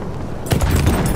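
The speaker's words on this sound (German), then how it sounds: "Schick dir eine Granate!" A grenade blast in Battlefield 1 on Monte Grappa, a sudden loud booming burst that breaks out halfway through and rumbles on briefly amid the noise of battle.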